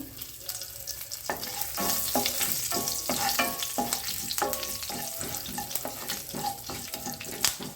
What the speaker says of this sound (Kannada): ನೋಡಿ ಸಾಸಿವೆ ಎಲ್ಲ ಚಟಪಟ ಅಂತ ಸೌಂಡ್ ಬರ್ತಾ ಇದೆ